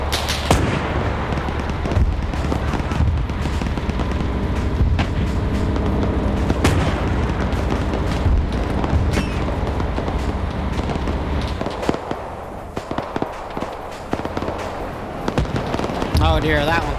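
A burning tank's ammunition cooks off in a WW2 game, popping and cracking in a long irregular string of sharp bangs and booms, with a voice talking at times.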